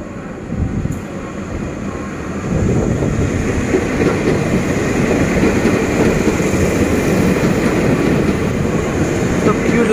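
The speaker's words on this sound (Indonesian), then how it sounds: "KRL Tokyo tujuan Bogor di jalur 11 dari stasiun Jakarta Kota menuju" A KRL Tokyo 8000 commuter train heading for Bogor arrives at Manggarai station, its steady, loud rumble swelling partway through and holding to the end, with wind noise against the microphone.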